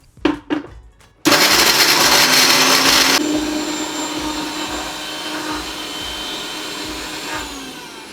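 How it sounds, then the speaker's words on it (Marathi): After a few clicks, a mixer grinder starts abruptly and whirs loudly and steadily, grinding a lemon-flavoured paste for stuffing pomfret, its pitch settling slightly lower after a few seconds and running on to the end. "आणि आता ह्याचं होणार आहे पेस्ट इथे मिक्सरमध्ये"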